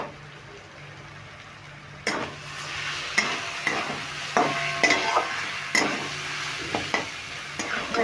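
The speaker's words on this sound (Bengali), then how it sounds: "এখনো 3 মিনিট মতন আমি এইভাবে নেড়ে নেড়ে ভেজে নেব।" Chicken pasta stirred and fried in a pan, a steady sizzle broken by repeated scraping strokes of a spoon, close and fairly loud, with no talking.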